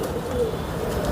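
A pigeon held in the hand gives a low, soft coo that murmurs steadily and close by, with no voices over it.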